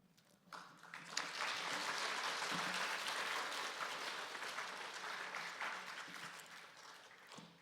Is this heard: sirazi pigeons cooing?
no